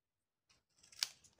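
Scissors snipping during a paper crafting session, a few faint quick cuts with one sharper snip, close and quiet with no talk.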